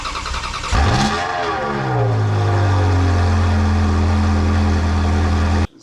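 A 2001 Ferrari 360 Spider fitted with a sports exhaust barks into a sharp rev, its note sweeping up and falling back before settling into a loud, steady burbling idle that cuts off abruptly at the end.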